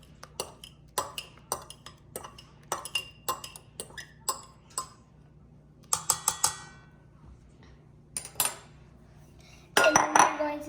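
Eggs and mashed bananas for banana bread are stirred in a bowl with a utensil, giving a run of sharp clinks and scrapes against the bowl, with busier, louder clatter near the end.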